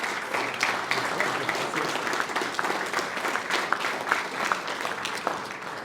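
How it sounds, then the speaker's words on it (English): Steady applause fills a sports awards night hall, dense clapping from a large audience holding at an even, moderate level for several seconds without a break. "a round of applause for Quirke Trophies Ltd for the lovely awards they crafted here today"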